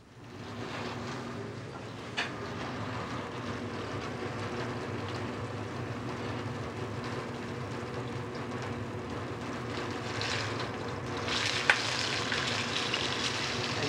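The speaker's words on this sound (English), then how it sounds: "Once the pan is really hot, just sear in your salmon tournedos. The salmon is seared in olive oil." Salmon tournedos searing in hot olive oil in a pan: a steady, close sizzling hiss of frying that continues throughout, with a few brief clicks and a brighter crackle near the end.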